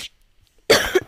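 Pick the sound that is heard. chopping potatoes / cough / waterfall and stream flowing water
cough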